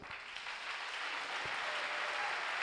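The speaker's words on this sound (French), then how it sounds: "Ok, merci, applaudissez." Sustained applause from a large convention audience in Pointe-Noire, a dense steady wash of clapping with no voices on top.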